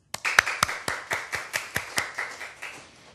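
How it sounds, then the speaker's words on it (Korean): Sharp, evenly spaced hand claps ring out in a steady rhythm, about four per second, from a church congregation during a Wednesday worship service. They carry on for roughly three seconds with no talking. "박수."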